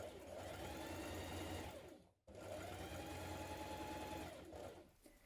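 A sewing machine stitches a casing onto a kaftan dress, running steadily and close, pausing briefly midway, then resuming before slowing to a stop.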